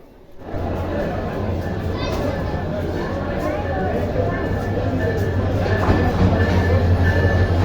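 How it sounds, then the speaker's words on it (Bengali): Burimari Express train pulling into Dhaka Airport station, with a steady loud rumble and low hum from the rolling train that builds slightly toward the end, and a busy platform with voices in the background. "এখনই একটি ট্রেন স্টেশনে আসবে জন্য স্টেশন মাস্টার অ্যানাউন্সমেন্ট করছে।"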